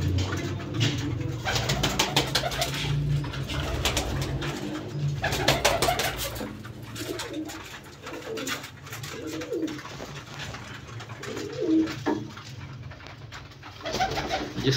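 Several domestic pigeons in a breeding setup coo close by in soft, repeated throaty phrases, with wing flutters and clattering in between and no talking.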